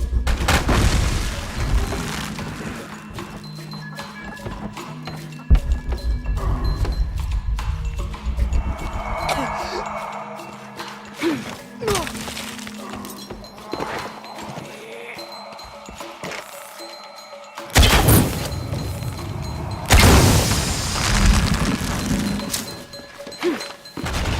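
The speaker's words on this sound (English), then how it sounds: "Have to create an explosion." An explosion goes off in the video game Shadow of the Tomb Raider, with booming thuds and crashing impacts, including sharp loud bursts toward the end, set against game ambience.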